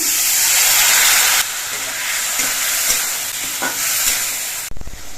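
Loud, close sizzling of potatoes sautéed with turmeric, dried chili powder and a splash of water in a pan, hissing steadily with occasional stirring scrapes before a sudden drop near the end.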